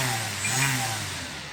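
The electric motor of an E-flite Timber RC plane throttles up in a brief rising whine, loud and close, swelling and easing over a second and a half.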